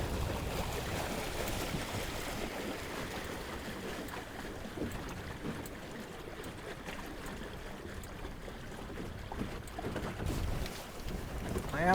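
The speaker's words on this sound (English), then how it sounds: "Blimey, wind from somewhere." Wind blowing hard past a microphone aboard a sailboat heading out from Southampton toward Eling, a continuous loud rushing roar with gusty buffeting and no speech.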